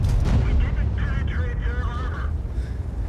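Cannon shots from a BZ-58-2 tank in World of Tanks ring out as a loud boom at the start, followed by rumbling battle noise with a voice talking over it.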